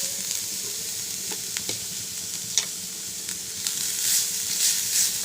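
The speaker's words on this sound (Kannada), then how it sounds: "ಒಂದು ಕ್ಯಾರೆಟ್ ತುರಿದು ಇಟ್ಕೊಂಡು ಫ್ರೈ ಮಾಡ್ಕೊತಾ ಇದ್ದೀನಿ" Grated carrot frying in ghee in a pan, a continuous close sizzle with intermittent spoon scrapes and a sharper knock midway, swelling slightly toward the end, no speech.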